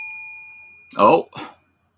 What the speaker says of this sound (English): didn't mean to hit that super chat bell since there's not been any super chats